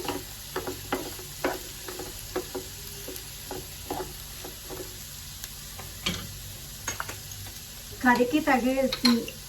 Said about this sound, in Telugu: వీటిని మంచిగా ఆయిల్లో అంతా కలిసేలాగా కలుపుకోవాలి.